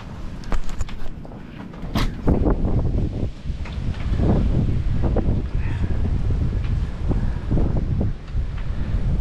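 Blizzard wind buffets the microphone outside an off-grid cabin, loud rumbling gusts with sharp knocks and rustles, rising and falling throughout with no voices.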